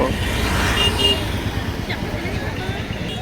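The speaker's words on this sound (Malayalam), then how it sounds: "എണ്ണാൻ പറ്റാത്തത്രയും വണ്ടികൾ." Dense road traffic with many cars and buses near Brindavan Gardens in Mysore, a steady close rumble of engines with a brief horn toot, under a voice talking throughout.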